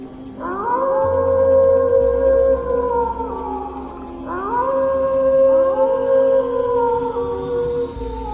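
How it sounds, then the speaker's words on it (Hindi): A jackal howls far off on a foggy night, giving two long wavering cries that rise and fall over a low steady drone. "कहीं दूर से किसी सियार के रोने की आवाज आई।"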